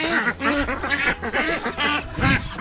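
Ducks and geese on a farm on a hot day quack and honk in loud, close, overlapping bursts that continue throughout.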